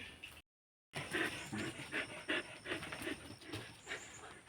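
A dog pants rapidly and close by in short rhythmic breaths after a brief silence, fairly quiet with a faint whimpery edge.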